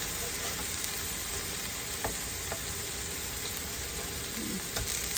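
Breakfast burger patties sizzling in a hot pan just after being flipped, a dense, steady crackle with small pops and a faint scrape near the end.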